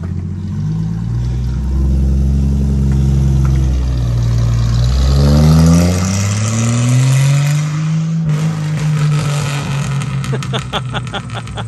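A loud car engine revving up in a driveway, pitch climbing steadily and then holding a high, rough drone, close by with a sharp change near the end.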